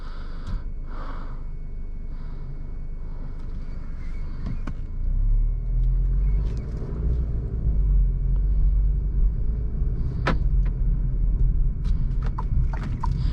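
An Alfa Romeo Giulia drives on the road, its engine rumble swelling partway through into a loud, steady low drone with tire and road noise, close and continuous.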